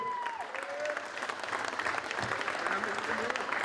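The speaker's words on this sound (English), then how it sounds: "give a big round of applause to Richard Anthony and his team" A crowd at an unveiling bursts into sustained applause for Richard Anthony and his team, a dense clapping wash that continues under voices.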